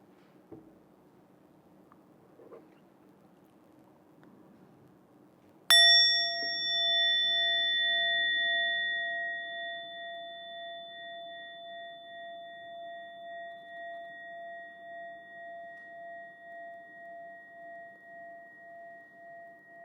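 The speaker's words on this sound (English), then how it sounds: "This little bell I got when I was on retreat at St. Benedict's Monastery." A small monastery bell is struck once after a quiet stretch, its clear ding ringing on and slowly fading over many seconds.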